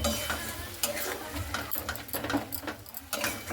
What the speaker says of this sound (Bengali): এরপরে লবণ আর হলুদটা দিয়ে খুব ভালো মতো করে একটু নাড়াচাড়া করে নিচ্ছি।